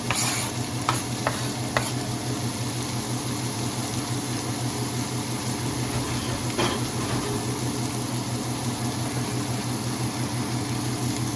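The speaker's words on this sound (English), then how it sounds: "we've got the butter and the olive oil in the pan all heated up. So now I'm just going to add those onions in there" Onions sizzle in heated butter and olive oil in a pan, a steady close frying hiss with a few sharp clicks early on.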